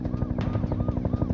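A helicopter sounds overhead, with steady, loud rotor chopping pulsing in a quick rhythm throughout.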